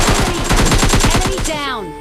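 Rapid burst of MK14 rifle fire in the mobile shooter PUBG Lite, about a dozen sharp, loud shots in quick succession, ending in a brief ringing tail and a short electronic game cue.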